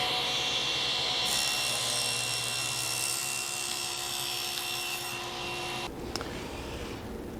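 Power saw trimming a sheet-good panel to 36.5 inches for a drum sander stand's top panel, a loud continuous whining cut lasting about six seconds, then stopping abruptly into a quieter hum.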